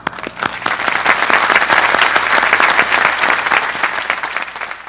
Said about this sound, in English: our faculty applaud you